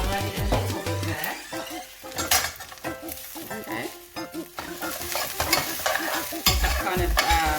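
Ackee and plantain stir-fried in a pan with light tahini, a wooden or metal utensil scraping and stirring in quick irregular strokes over a soft continuous sizzle, with occasional clinks against the pan.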